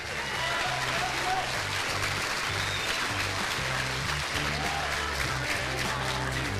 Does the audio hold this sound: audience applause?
yes